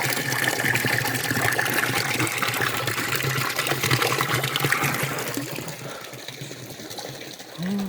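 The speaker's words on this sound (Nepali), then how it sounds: "यसबाट अर्कोमा पानी आउँछ" Filtered water gushes from one large tank into another in a hill village in Sindhuli, Nepal. A steady, fairly loud rushing flow runs throughout and eases slightly near the end.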